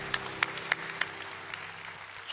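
A congregation applauds at the close of a Sunday worship service: a few sharp, distinct claps stand out early, then the applause thins into a soft, fading patter over a low steady hum.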